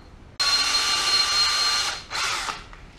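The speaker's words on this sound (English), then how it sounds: "Take my cordless drill, I can chuck this up in there." A cordless drill spins a round wire brush inside holes in a 15-inch planer being rebuilt, a loud steady whir that starts abruptly, runs about a second and a half, briefly drops, then surges again before trailing off.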